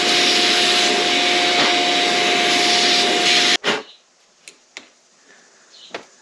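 A vacuum cleaner roars loudly, sucking out metal drilling chips around a Ford E150 steering shaft seal, then cuts off abruptly and is followed by a few light clicks and taps.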